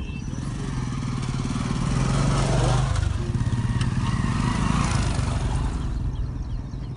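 Motorcycles ride along a flood-hit village road in Sangrur, Punjab, their engines droning steadily and close for several seconds with a slight swell midway and no talk over them.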